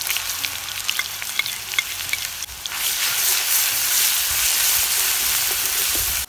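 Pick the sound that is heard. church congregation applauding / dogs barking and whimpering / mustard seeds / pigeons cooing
mustard seeds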